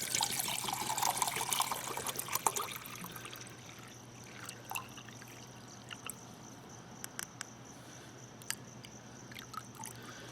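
Water poured into an Esbit aluminum cup up to a 16-ounce line, a soft trickling stream loudest at the start, then thinning to faint dribbles and small drips, heard close with no talking.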